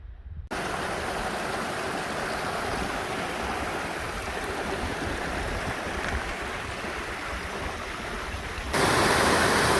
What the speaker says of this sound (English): This is the waterfall on trail that I'm just having my lunch at.